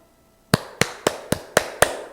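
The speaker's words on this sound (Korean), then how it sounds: "시작하기 전에 스트레칭과 박수를 한번 치고 시작하겠습니다" Six sharp, evenly spaced hand claps at a lecture, crisp and close, each with a short decay, following a brief silence.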